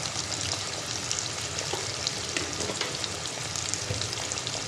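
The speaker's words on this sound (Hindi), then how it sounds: "अब इसका कलर चेंज होने तक मैं इसे फ्राई करूँगी।" Potatoes fry in hot oil with a continuous crackling sizzle, close and steady for several seconds, and occasional sharper pops stand out against the hiss.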